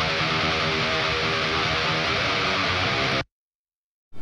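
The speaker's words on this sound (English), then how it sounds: "So here we have the main rhythm guitars." Main rhythm guitars in a rock mix sound as a thick, loud, wall-like sustained distorted chord, cutting off sharply into silence just after three seconds before a brief return.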